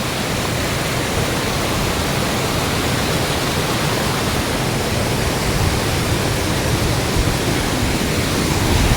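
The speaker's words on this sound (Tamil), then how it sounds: "தண்ணி ஆர்ப்பரித்து கொட்டிட்டு போகிறது நீங்கள் பார்க்கலாம்" Water roaring as it pours down a waterfall in hill country, a loud, unbroken broadband rush that stays constant for the whole stretch, with no voices.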